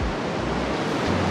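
Ocean surf washing in on a beach while razor clamming, a dense, steady wash of water noise with some wind buffeting the microphone, close and continuous, no talk.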